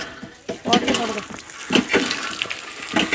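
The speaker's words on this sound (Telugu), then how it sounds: "చాలా ఈజీగా వాటర్ అయితే వచ్చేస్తున్నాయి" Water gushes out in repeated bursts from a hand pump, splashing loudly with a pumping rhythm, while people talk over it.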